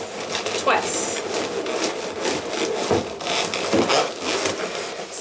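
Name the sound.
latex party balloons being twisted together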